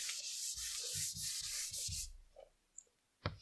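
Rubbing writing off a classroom board: brisk, scratchy back-and-forth swipes repeat for about two seconds, close and fairly loud, followed by a few faint knocks.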